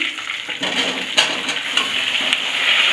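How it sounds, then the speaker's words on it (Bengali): Cut potatoes fry in hot oil in a pan with whole spices and green chillies for kopta curry. A continuous close sizzle runs throughout, with occasional brief crackles and stirring scrapes. "খুব ভালো করে আলু ভেজে নেব।"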